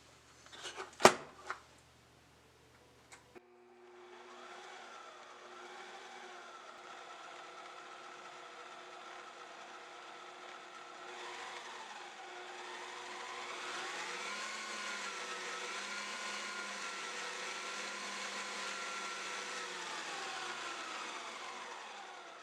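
A stand mixer with a paddle attachment churns sweet potato cornbread batter, giving a steady motor whir that rises in pitch and loudness, after a few brief clunks at the start.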